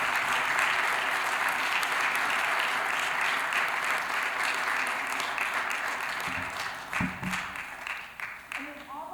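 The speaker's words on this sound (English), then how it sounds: "please join me in giving them a great big round of applause" Sustained applause from an audience at a school board meeting fills the room, steady and dense throughout before thinning slightly toward the end.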